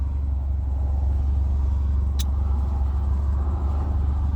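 Road traffic from inside a car waiting in a jam, a steady deep engine rumble and road hum with one brief sharp click midway, no talking.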